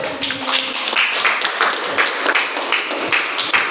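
A small group claps at an Indonesian gathering after a recycling show-and-tell, uneven individual claps close by forming a light, brief round of applause.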